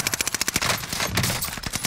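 Rapid automatic gunfire from Call of Duty: Warzone, a fast rhythmic burst of shots followed by a denser stretch of overlapping game action, loud and close.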